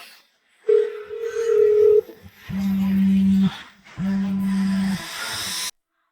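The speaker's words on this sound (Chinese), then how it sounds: "我现在就打电话问一下。" Telephone call tones sound in three sustained, loud electronic beeps: one higher-pitched, then two lower ones, separated by short gaps, with faint background hiss and no talking.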